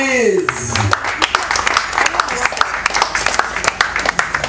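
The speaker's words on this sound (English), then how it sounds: "A round of applause for DJ" Audience applause for a DJ introduced at a campus awards ceremony, scattered sharp claps rising after a brief vocal sound, with crowd noise and voices mixed under the clapping.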